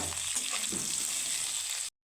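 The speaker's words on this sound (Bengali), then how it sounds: "এখানে আমার আলু পটলগুলো খুব সুন্দরভাবে ভাজা হয়ে গেছে" Potato and pointed gourd pieces frying in oil, a short, close, steady hissing sizzle with faint stirring before it stops abruptly.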